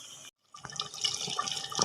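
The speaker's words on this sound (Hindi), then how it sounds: "अब इसमें मैं 1 गिलास भर के पानी का डाल रही हूँ।" Water poured from a glass into a cooking pot of beef reshmi korma, a close, steady splashing and trickling pour with no talk.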